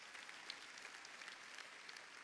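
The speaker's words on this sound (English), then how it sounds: "You should clap for that." Audience applause at a corporate keynote address, a steady wash of many hands clapping, faint and distant, with no voices over it.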